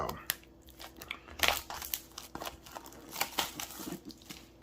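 A budget Blu S91 Pro phone box being cut open with an unboxing tool: close crinkling, tearing and scraping of packaging with small sharp cuts, while a person speaks alongside.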